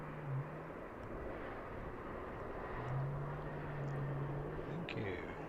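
A plane coming in to land at Heathrow, a steady distant roar of jet engines with a low droning hum that swells slightly midway, continuous and moderately faint throughout.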